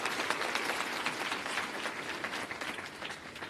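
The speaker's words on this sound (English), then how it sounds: "A round of applause." An audience at a scholarship commissioning ceremony claps in a continuous, even patter of many hands that sounds moderately distant and slowly eases toward the end.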